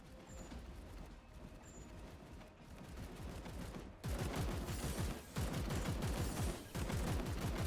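Gunfire from a Warhammer 40K video game: sparse muffled shots give way to loud, sustained rapid automatic bursts in several long volleys with short breaks between them.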